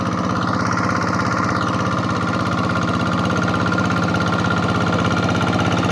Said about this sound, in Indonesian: Di sini kita pakai traktor Kubota ya.